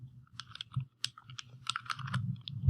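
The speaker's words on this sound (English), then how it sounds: "It may prompt you for a username, so you just have to type in" Typing a username on a computer keyboard: a close run of irregular, crisp keystroke clicks over a low, steady hum, with no voices.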